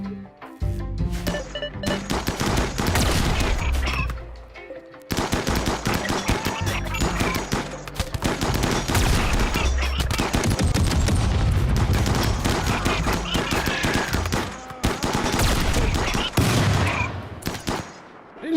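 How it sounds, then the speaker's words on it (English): Heavy anti-tank rifle fire and other weapons crack in dense, sustained volleys during a Rimworld 40k battle, loud and close, with brief lulls between bursts. "That's an anti-tank rifle."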